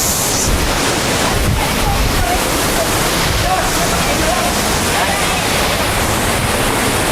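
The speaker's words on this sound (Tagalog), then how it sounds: "Pinagbuhatan Falls." Pinagbuhatan Falls in Negros Oriental roars loud and close, a dense, unbroken rush of falling water that fills the whole scene without pause.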